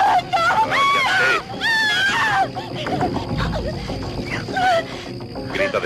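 A woman screams repeatedly in a 1987 action film scene, with shrill, wavering cries rising and falling in several bursts, mixed with shouting voices and commotion in the background.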